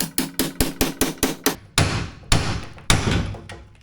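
A hammer strikes a ball joint splitting tool on the front end of a 1967 Jaguar E-Type, eight quick metallic taps in a steady rhythm and then three heavier, ringing blows, close and loud.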